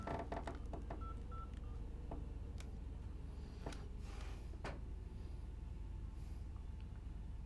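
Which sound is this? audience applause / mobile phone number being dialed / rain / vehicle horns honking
mobile phone number being dialed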